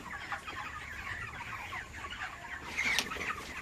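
Hungry chickens eating grain in the morning, clucking softly and steadily over a faint farmyard hum, with one brighter call near the end.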